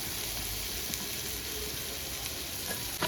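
Spices and asafoetida sizzling steadily in a hot pan, a continuous crackling hiss with faint occasional pops, close up and with no talking.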